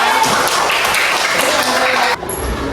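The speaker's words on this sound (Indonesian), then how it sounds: "bagus sekali, tepuk tangan buat Degus ya." A fifth-grade classroom claps for a student during a lesson, brisk applause that fills most of the moment and then cuts off abruptly near the end.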